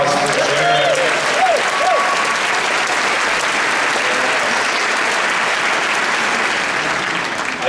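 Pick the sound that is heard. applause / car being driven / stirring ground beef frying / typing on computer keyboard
applause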